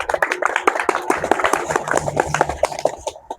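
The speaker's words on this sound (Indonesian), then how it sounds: "Oke, bagus. Tepuk tangan." Classroom students in a lesson on basic sabit and T kicks clap their hands, a loose scatter of distinct claps at close range that is uneven and thins out toward the end.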